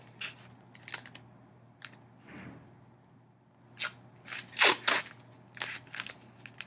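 Adhesive tape is pulled off a roll and wrapped around a twisted paper ball forming a paper puppet's head: scattered short, sharp ripping bursts, with a louder cluster of tearing strips midway, in a quiet room.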